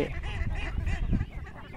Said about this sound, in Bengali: এক এক ভাইয়ের হাঁসের খামার, কতগুলো হাঁস অনেক সুন্দরভাবে